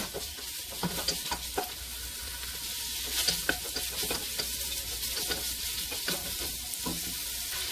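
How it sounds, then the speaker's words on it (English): Oil and roux sizzle in a cooking pot for New Orleans style seafood sausage gumbo while a spoon stirs it, with steady frying hiss and scraping taps against the pot, close and clear. "we're going to stir this around so all those oils can get on the bottom of the pot"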